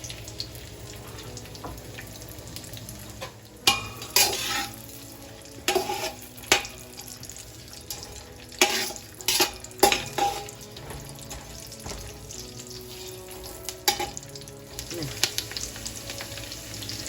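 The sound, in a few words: frying dry fruits: raisins, almonds, cashews, coconut in pan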